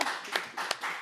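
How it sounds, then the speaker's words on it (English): Audience applause at a recovery-themed talk show, a short burst of steady clapping from a small crowd, moderately quiet and fairly close, with no voices over it. "Give Al a nice round of applause."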